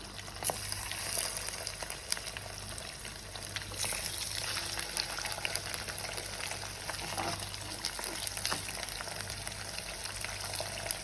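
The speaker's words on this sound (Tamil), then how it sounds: "ஹை ஃப்ளேமில் தான் வச்சுருக்கேன். ஸோ இங்கே பார்த்தீங்கன்னா நல்லா ஃப்ரை ஆகிட்டுருக்கு." Boiled potatoes fry in a pan of hot oil over a high flame, giving a steady close sizzle with small crackles and pops that continue throughout, with no one talking over it.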